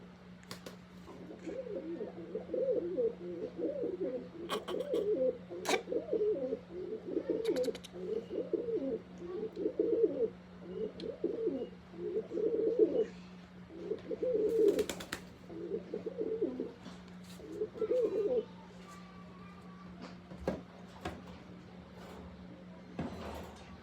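Pigeons coo in a steady series of soft, throaty rolling calls repeated about a dozen times, close by, with a faint constant hum and a few sharp clicks underneath.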